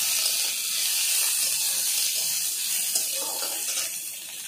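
Two chopped onions fry lightly in a pan for kundali alu posto, giving a steady, close, even hiss with no talking.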